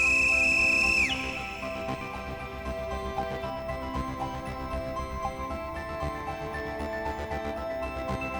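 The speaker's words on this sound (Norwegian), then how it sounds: "det var en skingrende lyd som var startskuddet på flyttet av Oseberg fra Fredrik Johannessens fløyte." A shrill whistle blown by one man as the signal to begin moving the Oseberg Viking ship, loud and sustained for about a second before cutting off, then leaving a steady background hum.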